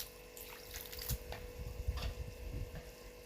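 Cold salted water pours and splashes into a pot while steaming semolina seffa with lamb, a steady running trickle with a few louder gushes, close by and with no talk.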